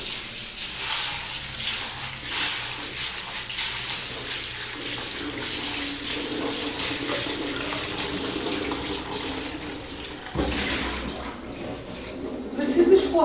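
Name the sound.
rinsing brown rice and lentils under running tap water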